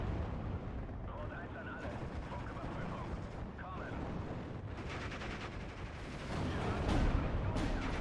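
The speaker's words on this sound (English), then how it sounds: "I'm a little concerned about that artillery fire." Artillery barrages rumble through the Steel Division 2 wargame, a steady roar of distant booms and crackling gunfire that swells louder near the end.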